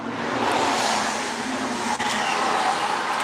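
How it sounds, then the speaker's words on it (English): A car passes on a road outside a bus shelter in drizzly weather, a loud rushing roar of tyres and engine that stays close and steady, with a brief dip partway through and no talk. "There is a road out here, so there might be the odd car going by."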